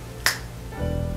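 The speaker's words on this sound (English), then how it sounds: "I snap my fingers." A single sharp finger snap, close and crisp, sounds early on, followed by a low steady hum.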